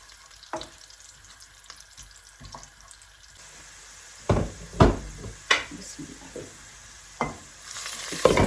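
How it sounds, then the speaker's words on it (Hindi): Peas pulao ingredients fry in a pot, a soft sizzle broken by several loud, splashy stirring bursts and clanks at irregular intervals, close by with no speech. "इसको थोड़ा पकने देंगे। इनको फ्राई होने देंगे।"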